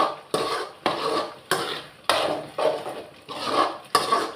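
Prawns being stirred in a cooking pan, a metal utensil scraping and knocking the pan in a brisk rhythm of about eight strokes, close and clear.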